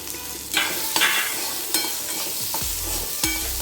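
Green chilli paste and onion frying in a pan for samosa filling, a steady close sizzle broken by several sharp spoon scrapes and stirring knocks, with no voices.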